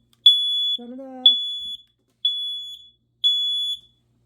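A smoke detector in a kitchen being converted from an electric to a gas stove goes off after a gas leak. It gives four loud, evenly spaced high-pitched beeps, and a brief voice is heard between the first two.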